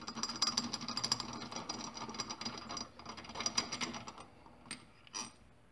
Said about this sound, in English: So let's remove the bolt.